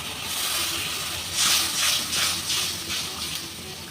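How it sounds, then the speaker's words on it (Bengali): Rinse water from the mixer hits a hot pan of frying ground cumin, coriander, ginger and garlic paste, raising a loud sizzling hiss that surges in several waves over steady background cooking noise. "সঙ্গে মিক্সি ধোয়া জলটাও দিয়ে দিলাম"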